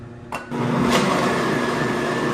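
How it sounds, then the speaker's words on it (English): A blender starts up and runs steadily, pureeing cooked butternut squash for soup, a loud continuous motor whir with a brief knock at the start. "we're gonna transfer it over to the blender in batches and blend it"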